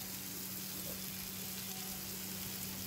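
Onions and chilies fry with salt in a pan, giving off a soft, steady sizzle with no talking.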